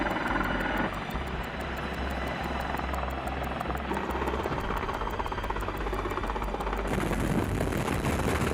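A military helicopter flies nearby, its rotor thumping steadily and loudly, and the pitch shifts brighter near the end as it passes closer.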